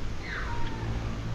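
A cat gives a single short meow outdoors in an evening garden at a hot spring resort in Calamba, Philippines, heard faintly over steady background noise.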